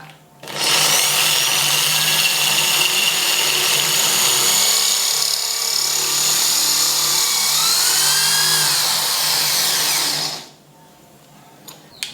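A power drill with a diamond bit grinds into ceramic tile, a loud, continuous high-pitched whine for about ten seconds before stopping abruptly.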